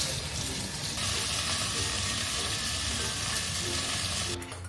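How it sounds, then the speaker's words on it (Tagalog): Beef caldereta cooks in a pan with a dense, constant sizzle and bubbling hiss that stays loud and even throughout, heard up close with no voices. "Nagluluto sila ng kaldereta."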